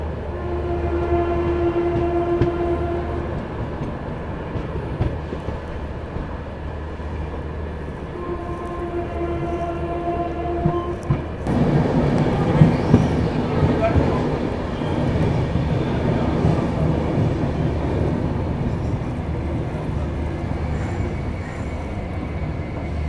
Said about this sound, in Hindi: बहुत प्यार से धीरे से गाड़ी निकली अपनी जलंधर छावनी रेलवे स्टेशन से, बहुत धीरे से एकदम।